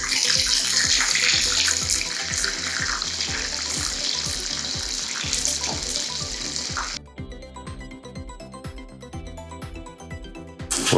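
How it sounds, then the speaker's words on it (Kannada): Squid pieces refried in hot oil for a crunchy golden fry, giving a steady, dense sizzle and crackle that continues throughout, slightly thinning toward the end. "ಇವಾಗ ಇದನ್ನು ಮತ್ತೆ ರೀಫ್ರೈ ಮಾಡೋಣ ಎಣ್ಣೆಯಲ್ಲಿ"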